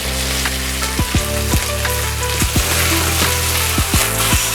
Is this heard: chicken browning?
yes